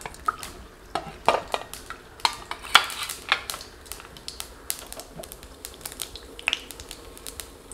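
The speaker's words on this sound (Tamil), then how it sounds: "கடுகு வெடிக்கட்டும்." Mustard seeds spluttering in hot oil while tempering for radish sambar, sharp irregular pops and crackles over a faint sizzle, close and fairly quiet.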